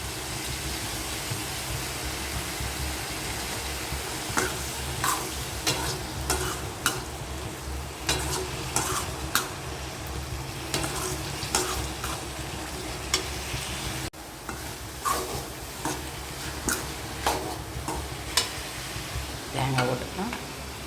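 Broad beans poriyal with coconut being stirred in a pan, soft frying sizzle under a steady low hum, with repeated scraping clinks of the spoon against the pan at irregular intervals.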